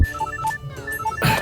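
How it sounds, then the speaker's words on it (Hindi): A phone rings in a Hindi-dubbed film scene with a repeating electronic ringtone, short melodic beeps alternating in a steady pattern, fairly close and loud. "अब कौन फोन कर रहा है?"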